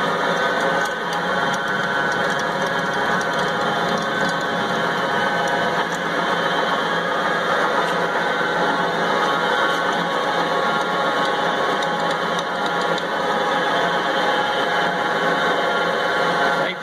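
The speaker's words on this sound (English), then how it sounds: "Just using this bad boy as a regular drill press." A Moore #3 jig borer used as a drill press with a half-inch quick chuck hums in a steady, dense mechanical whir at close range for the whole stretch, with no voices.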